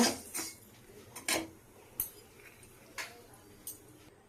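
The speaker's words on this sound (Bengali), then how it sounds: "হালকা একটু নেড়ে ছেড়ে নেব" Dry dalia roasts in a pan as a utensil stirs it, giving sparse light scrapes and metallic clinks at irregular intervals over a quiet background.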